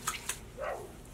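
A dog gives a couple of short, sharp barks followed by a softer yelp, somewhat distant and faint, with no talking.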